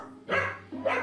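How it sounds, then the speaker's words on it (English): A dog barks twice at close range, each bark loud and full over a steady low hum, with a short gap between them. "His barking is on another level."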